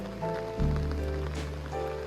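Rain falling steadily on tiled temple steps, a soft continuous patter close by, with no talk.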